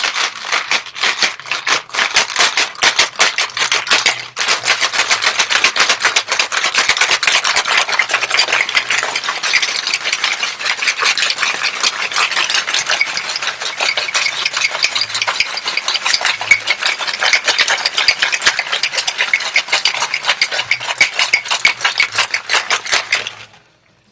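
A cocktail is shaken hard in a lidded shaker, a loud continuous rattle and scrape that runs for over twenty seconds before cutting off abruptly at the end.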